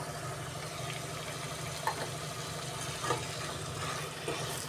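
Steady frying sizzle of a coconut and tomato paste in a pan fills the clip, a broad hiss with a low hum beneath and a few faint clinks of stirring.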